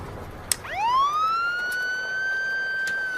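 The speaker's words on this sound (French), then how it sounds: "Enclenche la sirène." A police car siren starts in a French drama film, giving one rising electronic wail that holds as a sustained tone, moderately faint over a low background hiss.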